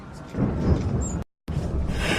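A thunderstorm at sea in Assassin's Creed 3, with heavy rumbling thunder and a steady roar of rain and wind, broken by a brief dead gap of silence before the storm noise resumes.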